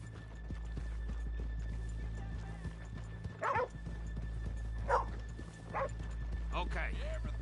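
Horses in the Red Dead video game snort and whinny a few times over a steady low hum, with scattered hoof clops and soft background sounds.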